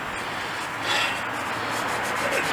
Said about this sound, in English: We're back to cutting the tenon.